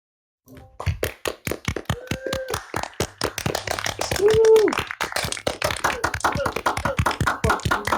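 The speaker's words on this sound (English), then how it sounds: "if we could all just start this off with a little bit of applause" Clapping from a small audience at an open mic night in the Electrolounge, sharp separate hand claps in a quick, uneven run after a short silence, with voices and a brief held tone mixed in behind them.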